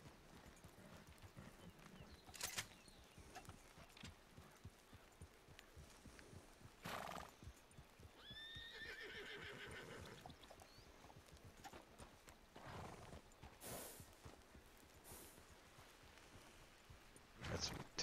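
A horse neighs and whinnies in an outdoor grassy area while hooves clip-clop in a steady rhythm, the calls rising loud and shrill over continuous hoofbeats at moderate distance.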